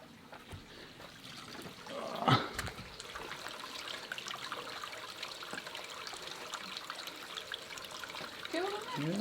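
Water trickles steadily from a park water feature at Lough Boora Discovery Park near Tullamore, a soft continuous wash with a brief louder splash early on and a voice near the end.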